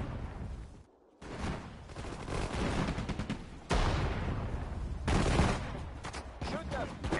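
Video-game machine-gun fire: loud, dense bursts of rapid gunfire with a brief pause near the start, then heavy firing that goes on, with some talk underneath.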